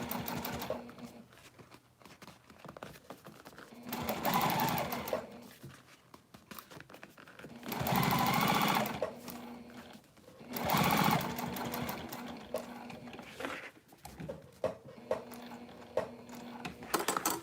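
A sewing machine running contrast stitching through a cork panel, sewn in several loud bursts of rapid mechanical chatter separated by short pauses, close by with no talk over it.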